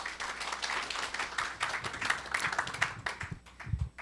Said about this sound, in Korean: 큰 박수로 환영해 주시길 바랍니다.